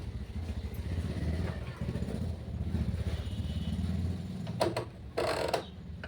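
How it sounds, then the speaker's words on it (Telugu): A sewing machine runs a zigzag stitch with a fast, even mechanical chatter, followed near the end by a couple of short clattering bursts; a voice may be present underneath. "ఇప్పుడు వచ్చేసి జిగ్జాగ్ కుట్టు పెడతాం"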